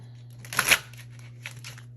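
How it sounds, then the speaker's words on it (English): Tarot cards riffled in a brief shuffle, a quick papery burst of flicks followed by a softer second rustle, close and alone over a low steady hum. "Okay, one more shuffle, Spirit."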